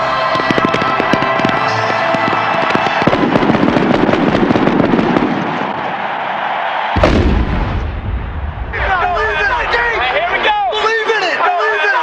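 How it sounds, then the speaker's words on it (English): Fireworks burst over Miami in a dense, loud barrage of booms and crackles, followed by a deep blast and more sharp popping, with a crowd roaring underneath. "The fireworks that lit up the Miami sky"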